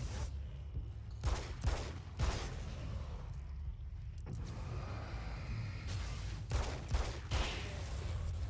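Assault rifle fire in a horror video game: several sharp, loud bursts of shots spread across the stretch with brief pauses between, plus quieter mechanical clatter in the gaps.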